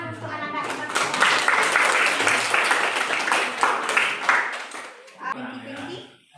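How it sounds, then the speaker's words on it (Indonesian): Students in a classroom clap their hands together, a lively, close burst of clapping lasting about four seconds that tapers off, with a voice speaking near the end. "tepuk tangan untuk anak-anak yang bertanya"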